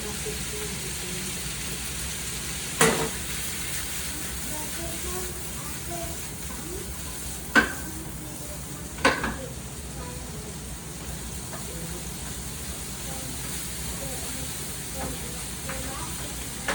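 Sticky rice stir-fried with dried shrimp in a pan, Cantonese style, a low steady sizzle with a few sharp clanks of the spatula spaced apart, faint and close, with soft talk underneath.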